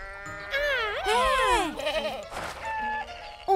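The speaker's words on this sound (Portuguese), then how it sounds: "Um bode?" A cartoon goat lets out a few wavering, quavering bleats in quick succession, loud and close, with short pauses between calls.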